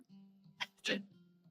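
A quiet sneeze, a quick intake followed by a sharp burst, over a low steady hum.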